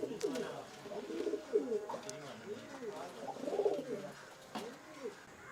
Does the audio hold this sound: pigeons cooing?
yes